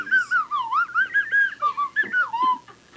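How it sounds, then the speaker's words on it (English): A slide whistle plays a short, wavering tune, its pure tone gliding up and down in quick swoops, loud and close with no talking. "sitting in physics class playing around with my slide whistle"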